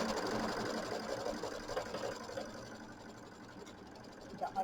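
A sewing machine stitches a quilting placement line on a mini quilt with batting. It gives off a steady, soft, rapid mechanical whirring and ticking at low volume, running continuously with no talk.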